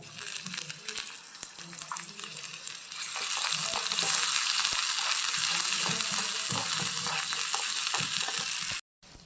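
Ginger garlic paste hits fried onions in a miniature toy-kitchen pan while khichdi is being cooked, bursting into a loud, steady crackling sizzle that fills the clip with no talk over it.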